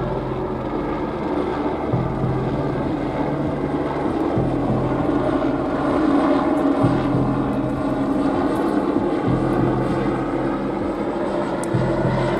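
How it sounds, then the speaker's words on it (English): Helicopter passing close overhead in the early morning, a loud steady rotor drone with rhythmic blade thumping that holds throughout with no voices. "approaching helicopter for a buzz."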